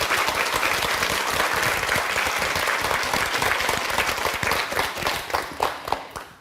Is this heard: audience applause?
yes